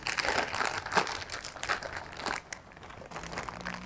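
A plastic storage bag of portioned food is pressed flat to push the air out, producing close, irregular crinkling bursts of moderate loudness that ease off toward the end.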